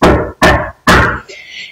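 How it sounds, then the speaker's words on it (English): An audience at a school gathering gives three loud, evenly spaced collective knocks, each a heavy thump close to the listener, followed by a faint tail of room noise. "Let's give them 3 knocks."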